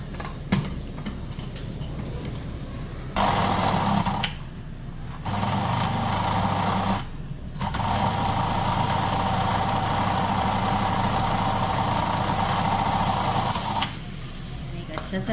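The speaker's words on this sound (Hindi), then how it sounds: "इसे मैं एक अच्छा सा ब्लेंड लूँगी" Blender whirring through a Bounty chocolate bar for a coconut frappe, a steady loud motor drone in several bursts separated by short pauses.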